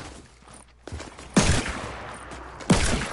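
Gunfire in the Fortnite video game: a few scattered shots, then two loud sharp bursts about a second apart, close and punchy over low background game noise.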